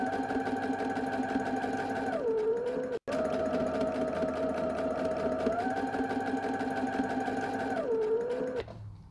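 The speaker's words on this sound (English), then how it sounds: "you're going to go ahead and sew your pouch together on the" A sewing machine stitching a fabric mask pouch runs steadily and close for the whole stretch, its whirring motor changing speed a few times with one very brief stop.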